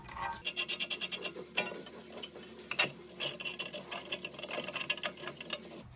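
A brake caliper piston tool winds back the rear caliper piston during a pad and rotor replacement on a Lincoln MKC/MKZ, giving steady rhythmic ratcheting and grinding strokes, close and moderately loud, with a few sharper metallic clicks.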